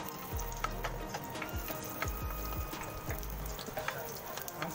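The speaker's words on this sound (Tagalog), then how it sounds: "Gigisahin muna hanggang mabango-bango." Garlic sautéing in a pan, a quiet continuous sizzle broken by repeated sharp clicks and taps of a utensil against the pan.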